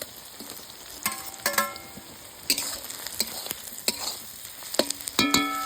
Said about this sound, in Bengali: এবার এই সময় দিয়ে দিব হচ্ছে টমেটো কুচি